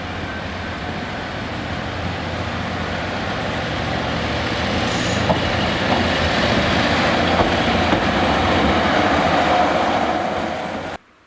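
A single-car Class 153 diesel train rumbles steadily closer into Llandovery station, its engine and wheels building to a loud drone with faint squeals and clanks before stopping abruptly.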